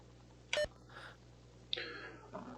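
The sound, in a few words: beep in a trivia video game minigame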